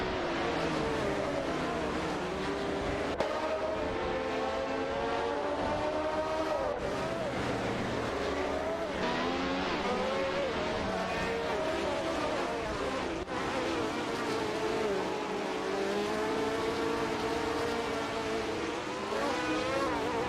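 Race cars contesting a racing video game, with overlapping engine tones rising and falling in pitch as cars shift and jockey for position, a steady moderately loud drone running continuously throughout.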